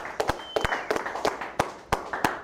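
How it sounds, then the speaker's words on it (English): A small audience claps in a loose, uneven rhythm at an audition for a hip-hop record label in Miami, with separate sharp claps landing several times a second and nobody speaking. "Y'all clap it up."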